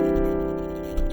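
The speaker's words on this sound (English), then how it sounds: "so the add 9 first inversion chord sounds something like this." A sustained add 9 chord in first inversion rings out, a single held harmony that is steady and close, with no voices over it.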